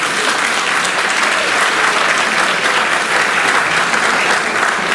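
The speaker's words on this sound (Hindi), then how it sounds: "हाँ, तालियों की तो अपेक्षा मुझको है।" Loud, sustained applause from an audience in a hall at a 645th Ravidas Jayanti gathering, a thick unbroken roar of many hands clapping throughout.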